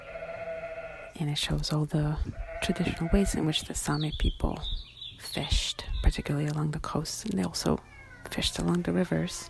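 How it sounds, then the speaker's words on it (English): Recorded farm animal calls, sheep bleats and other cries, play repeatedly in a Sami museum exhibit, moderately loud and overlapping under someone talking throughout. "Those are some of the animal sounds you're hearing behind me,"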